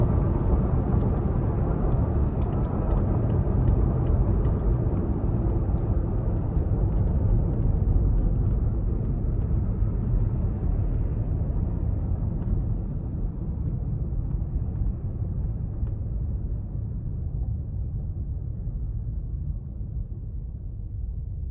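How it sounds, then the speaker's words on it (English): A 2017 Toyota Tacoma V6 driving off road with 82K miles, a continuous low engine rumble mixed with tire and road roar from inside the cab, steady and loud throughout with no talk. "And I love that rumble of this V6."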